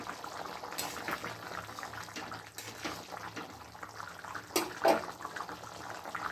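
A pot of potatoes boiling on a home stove, a steady low bubbling and hiss with occasional louder pops and splashes, heard alone at close range.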